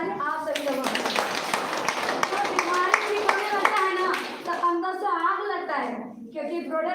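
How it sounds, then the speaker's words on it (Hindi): An audience claps in a quick, fairly close patter that fades after a few seconds, while voices carry on over and after the applause. "जोरदार ताली आप सभी लोगों को"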